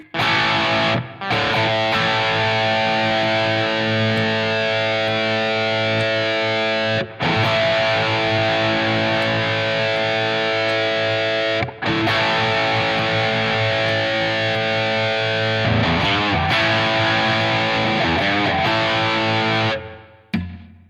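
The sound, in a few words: Epiphone Les Paul Prophecy electric guitar played in normal pickup voicing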